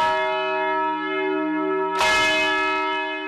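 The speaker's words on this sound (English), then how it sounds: "At a nearby church, a bell is rung 14 times for each of the dead." A church bell tolls for mourning, a sustained resonant ring that hangs in the air before a fresh loud strike about two seconds in, clear and close with no voices.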